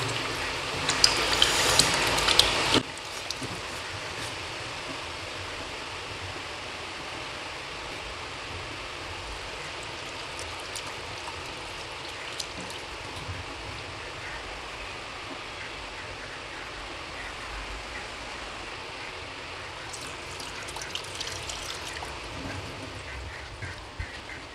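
Aloe vera gel being washed under running water, a steady broadband rush that is loudest and splashiest for the first three seconds, then settles into a softer, continuous flow with no voices.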